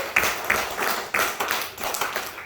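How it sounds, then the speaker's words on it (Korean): Church congregation clapping during a Sunday worship service, a short run of scattered, uneven claps close by with no talk over them. "박수를 먼저 하게 되었어요"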